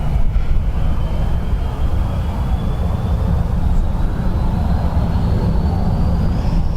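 A Ryanair airliner departing Dublin Airport for Ibiza gives a loud, steady low roar of jet engines, a continuous rumble with no voices.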